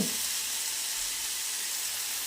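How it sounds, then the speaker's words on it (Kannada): Chili powder and tomato fry in oil in a pan, giving a steady, close, bright sizzle and hiss that continues evenly with no talking. "ಅದನ್ನು ಸಹ ಚೆನ್ನಾಗಿ ಎಣ್ಣೆಯಲ್ಲಿ ಫ್ರೈ ಆಗಲಿ."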